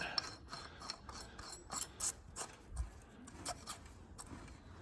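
The rebuilt drop box gears of a Massey Ferguson 1200 tractor spin after assembly, giving quiet ratcheting clicks and soft mechanical ticks at an irregular pace, close by, with no voices.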